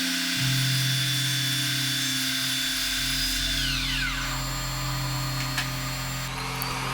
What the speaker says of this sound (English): Drilling a hole in an ebony blank is a bit of a challenge.